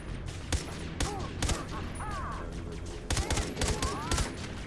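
Gunfire in the video game Far Cry 3: Blood Dragon: several sharp shots crack out in quick clusters, loud and close, over a steady game soundscape with faint electronic tones.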